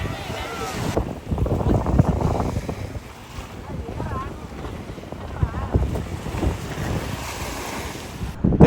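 Sea waves and surf wash in steadily at Rushikonda Beach in Visakhapatnam, a broad roaring swell with wind buffeting the microphone throughout, no talk over it.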